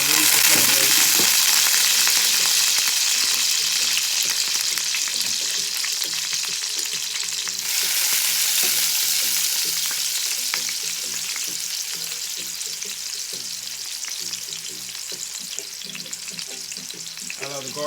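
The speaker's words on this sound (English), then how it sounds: "I'm just gonna put the onions in a bit, just to kind of release the flavors" Onions sizzling in a hot pan, a loud continuous crackle with stirring and scraping, easing slightly over time.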